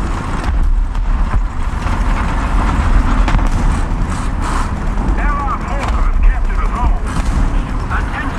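Artillery strike shells land in War Thunder ground battles, with repeated heavy booms and rumbling blasts over several seconds amid vehicle noise, and voices talk throughout.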